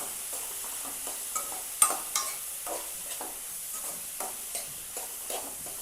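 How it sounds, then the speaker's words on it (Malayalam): Chopped beans, carrot and onion are stirred in a hot pan with oil, giving a light sizzle. A spoon scrapes through the vegetables in a regular rhythm of soft strokes, with one sharper knock early on. "അതിൽ ഒന്നും കൂടി ഇളക്കി കൊടുക്കുക."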